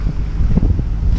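Steady 14-knot wind buffeting a microphone on a boat at sea off Sardinia near Cagliari, with low rumbling gusts and a constant roar, no voices.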